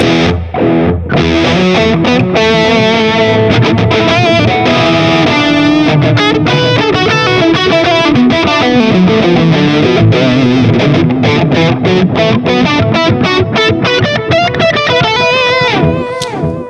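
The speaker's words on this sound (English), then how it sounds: "Let's try like a real echo." Distorted electric guitar played through a Mooer Prime P1 with an echo delay effect, loud strummed chords and riffs repeating in a trailing echo, continuous throughout with no talk.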